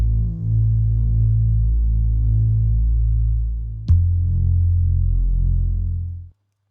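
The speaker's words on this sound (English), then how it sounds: "Just a simple sine wave bass line." A deep, smooth synthesized sine wave bass tone in Ableton Live holding steady notes, shifting pitch once midway, then cutting off abruptly.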